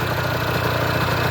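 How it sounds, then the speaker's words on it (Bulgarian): A Yamaha TZR 50 motorcycle with a freshly cleaned carburettor idles close by, making a steady, loud, even engine drone throughout. There are no voices. "мотора работи добре"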